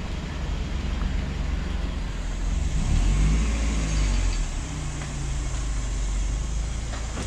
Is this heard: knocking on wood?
no